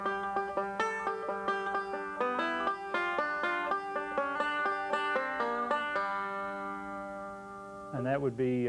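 A five-string banjo picks the B part of the fiddle tune Salt Creek, a bright, quick run of plucked notes in steady rhythm, close and moderately loud, ending on a ringing held chord before a brief voice.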